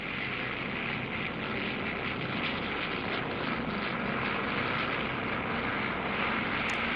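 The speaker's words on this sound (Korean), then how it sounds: "한 대씩 차례차례 엔진이 추진력을 최대로 끌어올리면 전투기들은 재빨리 속력을 높여 이륙한다" Fighter planes roar continuously as their engines push to full thrust for takeoff, a dense, steady, loud wash of jet noise with no voices.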